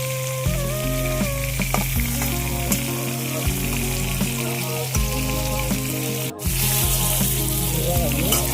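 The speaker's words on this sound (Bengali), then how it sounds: "সবজিটা আমার ভাজা হয়ে গেছে।" Vegetables frying in a pan give a steady, close sizzle with occasional stirring scrapes and clinks, loud and continuous throughout with no talking.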